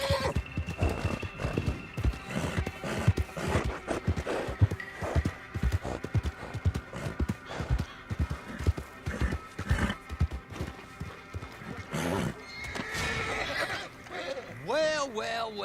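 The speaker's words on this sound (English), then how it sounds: "Get that horse hidden away, Clive, and ready to move out as soon as we" A horse in Red Dead Redemption 2 clops along steadily, hooves rhythmic and close, ending in a loud whinny, over game music and ambience.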